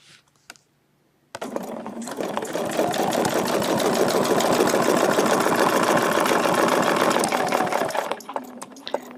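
A sewing machine stitches a feather leaf quilting design, starting after a brief quiet pause and running in a fast, steady mechanical rattle for several seconds before slowing and stopping.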